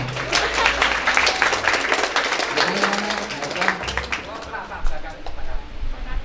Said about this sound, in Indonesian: Tepuk tangan buat harta angkasa.